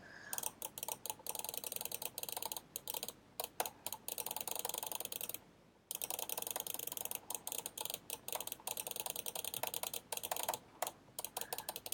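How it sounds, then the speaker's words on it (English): Rapid spam clicking of a computer mouse, tapped lightly and fast: dense bursts of sharp, close clicks with one brief pause near the middle, no voice. "I'm lightly tapping my mouse, but I'm spam clicking it"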